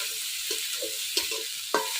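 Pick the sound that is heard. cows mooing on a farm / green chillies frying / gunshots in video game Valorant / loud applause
green chillies frying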